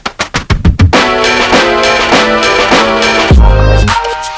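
A beat intro opens with a rapid drum fill of punchy hits accelerating into a dense, loud groove of layered synth chords and drums, ending on a deep booming bass hit, with no voices.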